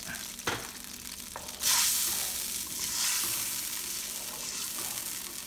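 Coconut milk poured into a pan of simmering pompano, a sharp hissing surge of sizzle after a couple of light knocks, then settling into a steady bubbling fry, close and without talk.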